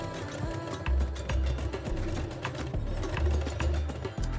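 Sewing machine stitching sleeve facings on a kimono dress, a close, fairly loud mechanical whir in uneven bursts with the rhythmic needle thump of short sewing runs.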